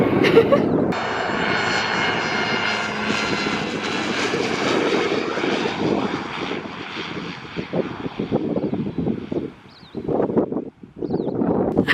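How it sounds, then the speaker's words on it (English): A fixed-wing airplane engine roars loud and steady as the plane comes in to land, a broad drone that fades slightly toward the end amid faint rustling and a little background talk. "We just saw a plane land."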